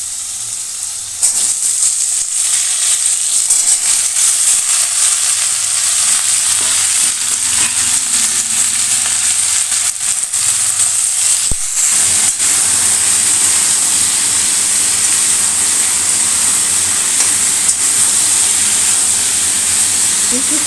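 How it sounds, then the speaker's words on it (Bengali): Cut flat beans fry in a pan, a steady bright sizzle running without pause, with faint stirring scrapes and a brief clatter partway through. "কিছুক্ষণ এইভাবে ভেজে নেব,"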